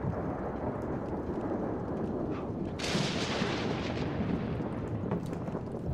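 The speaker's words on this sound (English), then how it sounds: "Lightning striking my plant." A lightning strike and rolling thunder in The Sims 3, a low continuous rumble that breaks into a sharp, bright crack midway and then rumbles on, loud and close.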